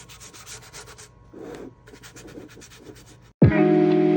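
Paint is rubbed into a surface by hand as part of a home project. Repeated close scrubbing strokes come in bursts with short pauses, then a louder, sharper rasping sound starts near the end. No one speaks.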